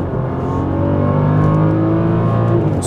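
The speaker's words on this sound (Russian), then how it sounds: "очень хорошо набирает тачка" A BMW X6 in sport mode accelerates hard from a light launch, its engine note loud and rising continuously from inside the cabin with no talking over it.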